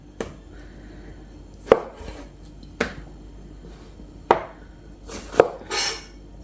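A knife chops chicken into boti pieces on a board, several sharp, close, separate chops at uneven intervals with quiet gaps between, no talking.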